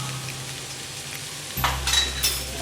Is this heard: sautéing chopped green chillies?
yes